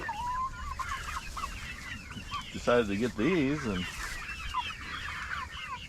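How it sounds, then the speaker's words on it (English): Several Barred Rock chickens cluck and chirp steadily, with a louder burst of throaty calls in the middle, while a person speaks briefly nearby. "these are pretty chickens. I really like them. These are again barred rock."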